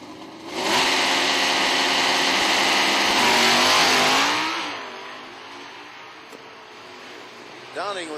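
Drag cars, one a Mustang in stock eliminator, launch at a quarter-mile race with loud engines roaring and revving up hard, then fading into the distance as a commentator talks over the track noise.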